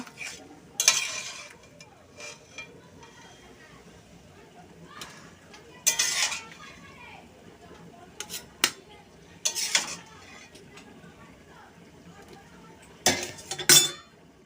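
A pot of boiled jackfruit being lifted off the stove in a home kitchen, with scattered metallic clanks and clinks of utensils and pot handling in bursts amid quiet background.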